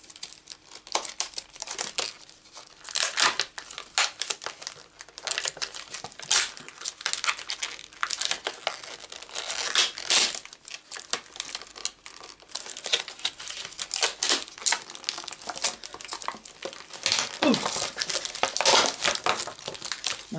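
Plastic packaging on a Stampin' Up Scrabble die set being torn and wrestled open by hand, with continuous crinkling, crumpling and ripping bursts at close range for about twenty seconds, no talking.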